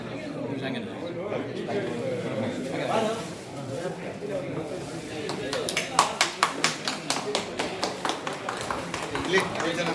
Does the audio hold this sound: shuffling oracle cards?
no